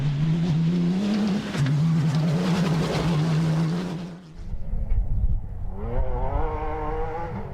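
A Kia Sportage rally car roars along an off-road rally track near Reguengos de Monsaraz, its engine droning loud and close before cutting off, followed by another engine revving up and down in rising and falling pitch.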